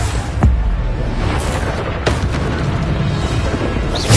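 Deep magical blasts from the Bombardo spell in Hogwarts Legacy boom one after another over a dense, loud rumbling game soundscape, with a few sharper bursts standing out.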